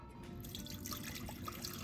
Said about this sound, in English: first things first, we want to put 3 cups of water